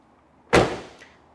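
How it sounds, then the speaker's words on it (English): A single solid thunk as the door of a 1987 Chevrolet Camaro Z28 swings shut, close and clean, with a short decaying ring and a faint rattle just after, no voices. "that door shuts nice too"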